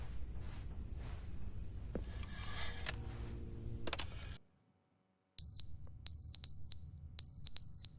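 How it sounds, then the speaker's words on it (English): Electronic beeping in The Stanley Parable Ultra Deluxe: after a cluttered stretch of game sounds and a brief silence, a series of sharp, bright, evenly repeated beeps rings out loudly over a low background hum. "What's that beeping noise?"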